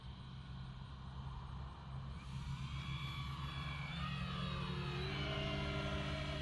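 An FMS Ranger 1800mm RC propeller plane flies past outdoors with a steady, mid-distance engine drone that slowly grows louder and shifts in pitch as it passes.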